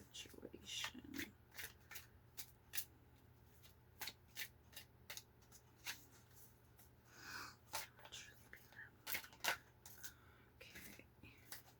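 Tarot cards being shuffled by hand: a quick run of crisp riffling snaps and flutters, close and fairly quiet, in bursts with short pauses over a low steady hum.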